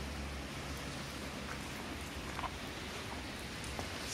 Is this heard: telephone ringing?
no